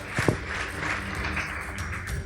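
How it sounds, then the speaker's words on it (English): Audience applause breaking out after a school debate result is announced, a steady wash of many hands clapping with a couple of sharper claps near the start, moderately loud and continuous with no talk. "Please give them a round of applause."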